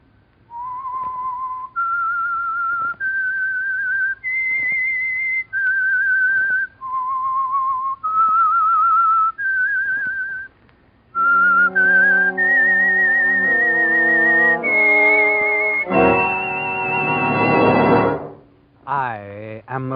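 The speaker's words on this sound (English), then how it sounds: "That whistle is your signal for the Signal Oil Program" A lone whistler carries the theme signal for The Whistler mystery radio program: a slow, eerie melody of held, wavering notes separated by short gaps. A brighter, fuller instrumental stretch with orchestral swells follows.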